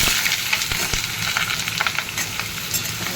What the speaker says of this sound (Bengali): আলুটা একটু ভালো করে ভেজে নিই